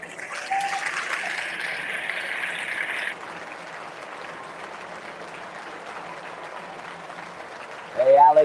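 An audience applauds human tower castellers in Barcelona with steady clapping at a moderate distance, which fades into a quieter hubbub before a voice speaks at the end.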